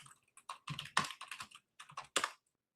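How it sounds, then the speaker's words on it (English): Forceful typing on a computer keyboard, bursts of hard, rapid keystrokes in uneven clusters with short pauses between, close and fairly quiet in an otherwise silent room. "More aggressive typing."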